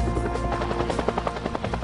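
Bell UH-1 Huey helicopter in flight, a loud, close, rapid rhythmic rotor chop pulsing steadily over a heavy engine drone, with no voices.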